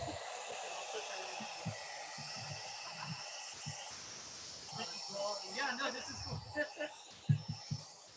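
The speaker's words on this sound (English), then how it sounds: "I'm gonna hit this with the blow dryer" A handheld blow dryer runs continuously as a soft, steady airy hiss, faint and close, with muffled handling bumps and quiet background voices during a craft livestream.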